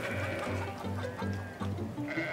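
Sheep on a family farm bleating, a few wavering, nasal calls in quick succession, fairly close and moderately loud, with quieter farmyard noise between them.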